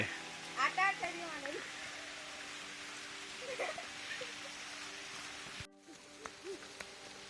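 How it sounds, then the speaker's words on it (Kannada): Rain falls in a steady hiss outdoors in a village, with people's voices chattering over it now and then. "ಎಷ್ಟೊಂದು ವರ್ಷ ಆದ್ಮೇಲೆ ಮಳೆ ಆಟ ಆಡ್ತಾ ಇರೋದು."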